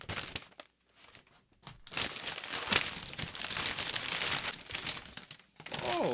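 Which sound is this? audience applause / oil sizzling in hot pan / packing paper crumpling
packing paper crumpling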